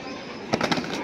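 A pigeon being held in someone's hands flaps its wings in a few quick, close bursts, after a moment of quiet room tone.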